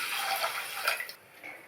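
Water pours steadily into a pressure cooker holding soaked rice, a close, hissing splash that tapers off near the end.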